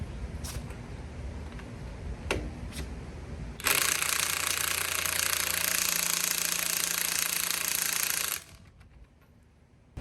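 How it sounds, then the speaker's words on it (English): An impact wrench spins off a lug nut on a 2020 Ram Power Wagon wheel using a 22mm socket. It starts after a few clicks, then buzzes loud and steady for about five seconds before stopping abruptly. "You might want to loosen the lug nuts before you lift the vehicle up."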